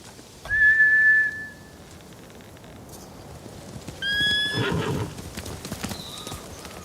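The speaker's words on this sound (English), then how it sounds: "Bastards scared off the horses." Samurai horses in the Ghost of Tsushima video game let out loud, shrill whinnies and neighs, one early and another later, over a clatter of hoofbeats and faint background sounds, with no talk.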